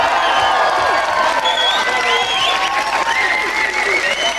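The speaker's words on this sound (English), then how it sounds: "Big round of applause." A 1993 television studio audience claps loudly and continuously, with cheering and whoops mixed into the steady applause.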